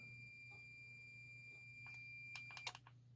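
A single-contact digital thermostat on a hot water tank sounds its buzzer once the water passes 26.5 degrees: a few short, sharp electronic beeps cluster near the end over a steady low hum and a constant faint whine.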